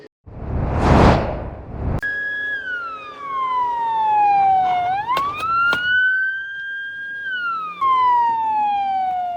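Ambulance siren from an emergency health team vehicle at an ambulance rally in a stadium car park, loud and close, wailing up and down continuously after a brief rush of noise at the start.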